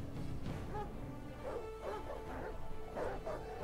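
War hounds bark and yip in a medieval battle in the strategy game Total War: Thrones of Britannia, several quiet barks in an irregular rhythm over battle ambience.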